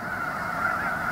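Snow geese honk together in a dense flock in rice country, a continuous chorus of overlapping calls that fills the short moment.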